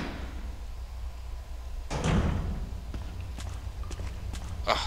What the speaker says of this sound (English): we're going to head through this wonderful door here